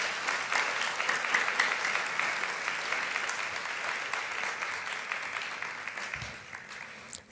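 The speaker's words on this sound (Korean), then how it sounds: "우리 선교사님 나오실 때에 따뜻한 박수로 맞이해 주시면 감사하겠습니다." A church congregation at a Sunday youth service claps warmly to welcome a missionary, dense applause from a crowd that holds steady for several seconds and then tapers off.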